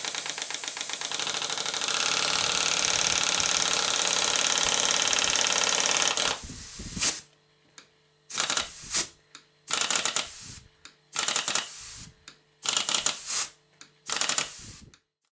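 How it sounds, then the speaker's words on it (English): Small Stuart steam pump running erratically with its piston sticking: a continuous mechanical chatter gives way to uneven bursts of clanking strokes separated by pauses. "the pump becomes erratic again and occasionally sticks at the other end of the cylinder"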